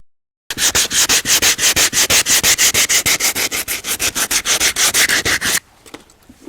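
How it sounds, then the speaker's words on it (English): Rapid, rhythmic rasping strokes of sanding on wood, about thirty even passes close up, then an abrupt stop into quiet. "I'm going to cut away a little bit and do some final grinding and sanding"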